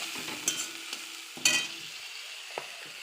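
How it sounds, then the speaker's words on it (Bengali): A spoon stirs ground black pepper into a fish curry, koi machher jhol, in a pan: a few soft scrapes and knocks over a faint, low sizzle. "একটু নেড়ে দেবো"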